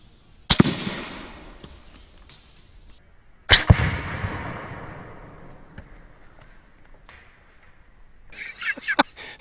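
An AEA Megalodon pump-action air slug gun fires at a watermelon outdoors: two sharp, loud cracks a few seconds apart, each with a decaying echo, then a short burst of scattered rustling and clatter near the end.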